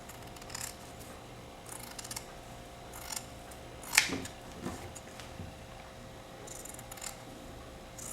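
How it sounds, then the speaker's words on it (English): Scissors snip through hair canvas while a tailored jacket front and lapel are shaped, a handful of separate crisp cuts spaced a second or so apart over a faint steady hum. "now we can cut just the hair canvas along the frame"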